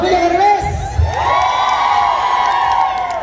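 Crowd cheering and shouting at a series premiere, with loud excited voices and whoops, children's shrill yells among them, sustained throughout with some clapping underneath.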